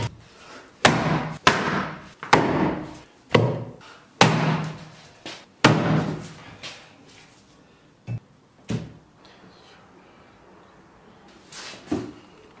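Tough beef ribs are cut up on a board with a run of heavy, close thuds, about a dozen uneven strikes that thin out and grow quieter near the end.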